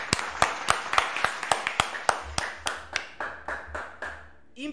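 Hands clap in a steady, evenly spaced rhythm in a café, about fifteen crisp, close claps that gradually space out and stop just before the end.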